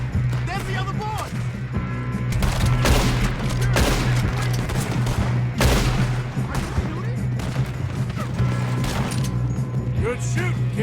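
Rapid bursts of gunfire, with overlapping shots and heavy booms, crackle through a train robbery shootout in Red Dead Redemption II. Voices talk over the steady, dense barrage for the full stretch.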